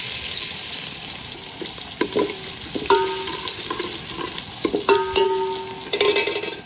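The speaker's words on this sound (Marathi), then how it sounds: "आता जिरं घालतो, जिरं पण फुललं छान असं घालायचं." Cumin seeds sizzle in hot oil with a bright, crackling fizz, broken by several sharp metallic clinks and scrapes of a spoon against the pan, all close by and with no voices.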